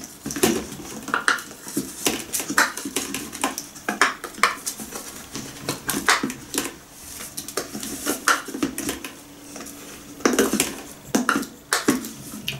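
A metal slotted spoon and other utensils clatter and clink against dishes in irregular bursts, close by, with scraping and knocking throughout.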